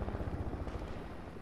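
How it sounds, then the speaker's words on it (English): A helicopter in the video game Fortnite gives a brief, loud, rhythmic rotor thumping with a steady engine drone underneath. "Shoot at that helicopter."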